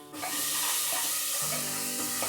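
Chopped medium onion with turmeric and salt fries in a pan with a loud, steady, close sizzle, broken by a few light stirring scrapes, with no talking.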